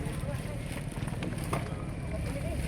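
A steady engine drone with wind and water rush from a motorboat underway leaving Carabao Island, Philippines, continuous and fairly close.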